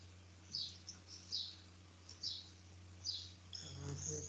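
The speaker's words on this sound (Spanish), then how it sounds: "Lo que se oye son pájaros." Birds chirp faintly in the background, with short high calls repeating about every second over a low steady hum, heard through a microphone during an online meeting.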